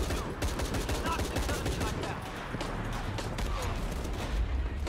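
Gunfire in the Shadow of the Tomb Raider video game, rapid bursts of shots and clattering impacts in a busy continuous battle, loud and close.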